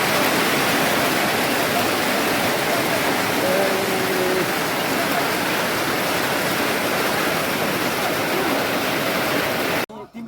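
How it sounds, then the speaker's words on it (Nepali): Heavy rain pours down in a dense, loud, unbroken roar, with a faint voice briefly under it before the downpour cuts off at the end. "अहिले चाहिँ पानीले एकदमै अवरोध गरिरहेको अवस्था छ"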